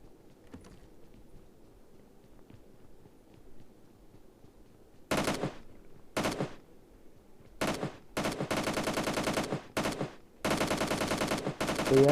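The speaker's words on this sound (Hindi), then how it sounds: "यहाँ पे मेरे टीममेट्स के ऊपर बंदे फायरिंग करते हैं" Gunfire in a multiplayer shooter video game as players fire on teammates, heard as a few separate loud bursts followed by longer sustained automatic fire, close and dominant over a quiet background.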